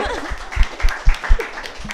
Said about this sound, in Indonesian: Tepuk tangan untuk Daru.